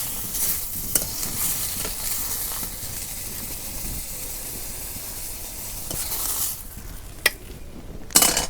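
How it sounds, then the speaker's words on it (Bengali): Fish fries in hot oil in a pan, a steady close sizzle and hiss with occasional scraping stirs and clinks of a utensil against the pan. "আবার এক খোলা মাছ ভাজা নেই"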